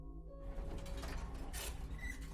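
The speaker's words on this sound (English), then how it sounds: "The elevator doors opened" Elevator doors slide open in a building lobby, a mechanical rumbling glide with a brief hum before it and a faint chime near the end, moderately close.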